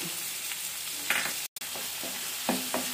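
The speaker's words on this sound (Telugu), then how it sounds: "మళ్ళీ ఇదే పాన్లో ఈ టమాటా కూడా బాగా మగ్గనిద్దాము" Tomatoes cook in oil in a pan, giving a steady close sizzle broken by occasional stirring scrapes and a brief cut to silence midway.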